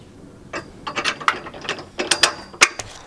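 A hand ratchet snugging down the bolts on a car's traction bar, several close, crisp bursts of clicking with short pauses between strokes and no talk.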